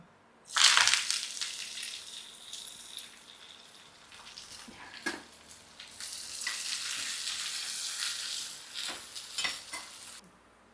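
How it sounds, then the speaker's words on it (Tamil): Small onions and curry leaves hit hot oil with a loud burst of sizzling, then keep frying for mutton curry with steady crackling and stirring scrapes close by and no talking. "இப்போ நம்ம வந்து இந்த சின்ன வெங்காயம் கருவேப்பிலும் போட்டுக்கலாம்"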